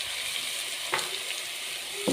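Garlic frying in a pan for a potato dish, a steady bright sizzle throughout with two brief louder spits or stirs, close and alone with no talking.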